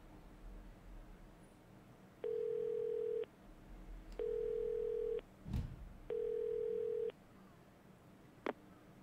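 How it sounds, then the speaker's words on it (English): Payphone in the Yakuza 0 video game: three evenly spaced steady electronic tones, each about a second long, separated by short gaps, with a soft thud between the second and third tones and a sharp click near the end. "I just want to use the payphone"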